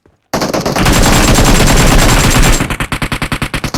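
Rapid automatic spray fire from an M416 rifle in a video game, a loud continuous burst of closely spaced shots for about two seconds that breaks into distinct evenly paced rounds near the end, with no talking.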